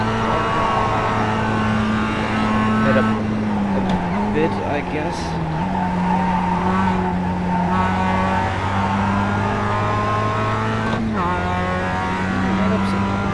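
Mazda MX-5 Cup race car in iRacing, engine droning loud and steady with pitch dips at shifts and braking, brief tire squeal, while someone talks over it.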